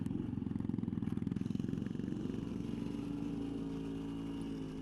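An old motorcycle engine idles nearby, chugging in rapid regular pulses that settle into a smoother steady run.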